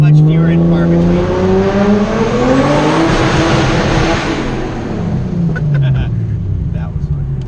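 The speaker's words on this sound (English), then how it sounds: "it's like hard to beat the classic 6-cylinder sound" A big-turbo Nissan R33 six-cylinder pulls hard through the gears, the loud engine note rising steadily, dropping at a shift, then climbing again, heard from inside the car with faint voices.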